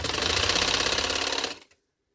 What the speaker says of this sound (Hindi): इसके ऊपर मैं सिलाई लगा देती हूँ